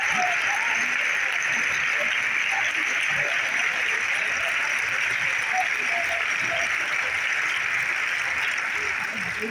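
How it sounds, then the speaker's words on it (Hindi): Audience applause at a poetry gathering, a dense steady clapping that fills the whole stretch, loud and close without pause, with a faint murmur of voices under it. "एक बार इनके सम्मान में ताली बजाओ।"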